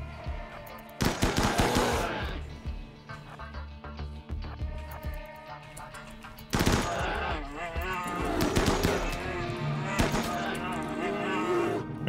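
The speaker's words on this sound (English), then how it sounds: "let's go get some shooting training" Rapid gunfire from a shooting-training session in the video game RimWorld, with dense bursts of shots layered over steady game music throughout.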